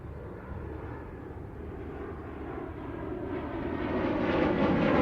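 A military jet aircraft at the Farnborough International Airshow roars steadily in a flying display, its broadband engine noise swelling louder as it closes in toward the end of the run.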